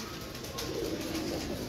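Pigeons coo softly at low pitch, a few murmuring calls rising over steady background hiss, moderately near.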